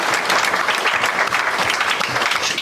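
A roomful of people at a French political conference applauds the organisers, a dense, continuous burst of clapping, close and loud, running without a break for the whole few seconds.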